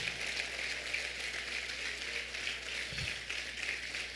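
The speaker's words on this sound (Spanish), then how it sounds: "Aplauda fuerte, aplauda fuerte." Church congregation applauding steadily, a dense wash of many clapping hands that fills the space evenly throughout at a moderate level, with no voices rising above it.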